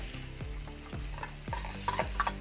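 An egg sizzles in a hot pan while a spatula scrapes and taps against the metal several times, close and fairly quiet, without any talking.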